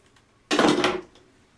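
A container of wet moss holding sprouting green onions is opened with one short rustling, scraping burst of plastic and damp material, close and brief, in an otherwise quiet room.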